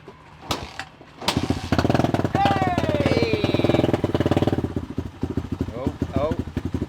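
A Chinese motorcycle engine starts and runs close by with a steady, rattling putter, while someone talks over it.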